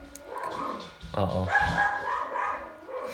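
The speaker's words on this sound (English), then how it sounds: "so the dogs are barking" Dogs bark indoors in a few quick, moderately loud bursts, mixed with a brief spoken exclamation from a person in the room.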